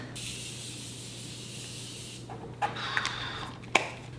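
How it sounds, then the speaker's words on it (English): A steady airy hiss fades out, followed by a few quick, sharp spritzes of a Morphe Continuous Setting Mist spray bottle close to the microphone. "Let's do a little bit of setting spray."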